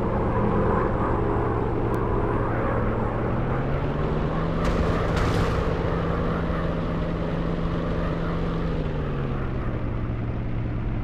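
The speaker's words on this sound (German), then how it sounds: "Es nähern sich Bomber." A steady, droning drone of WW2 bomber propeller engines in a video game fills the whole stretch, with a slight rise and fall in pitch and no voices.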